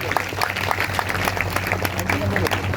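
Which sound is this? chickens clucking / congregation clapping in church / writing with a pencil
congregation clapping in church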